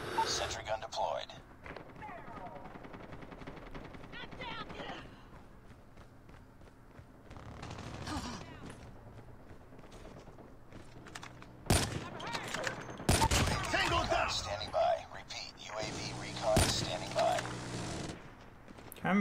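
Sentry gun fire crackles in a Call of Duty Mobile multiplayer match: scattered rattling bursts that grow louder and sharper in the second half, mixed with footsteps and voices.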